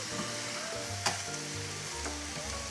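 A steak sizzles in a pan just after being flipped, a soft continuous frying hiss with one sharp crackle near the middle, no voices.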